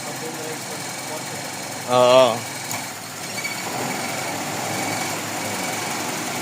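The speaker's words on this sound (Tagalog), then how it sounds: "medyo hirap ang makina dyan" A Toyota 4A-FE engine idles with a steady, uneven, struggling rumble, with the air conditioning on, and a short voice cuts in briefly near the start.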